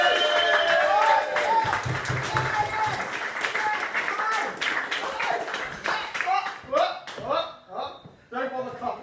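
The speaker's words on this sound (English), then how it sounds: "Don't bother clapping until I've got to the mic, eh?" Comedy club audience applauding as a comedian walks up to the mic, dense clapping and crowd noise that thins into scattered claps, with voices talking over the fading applause.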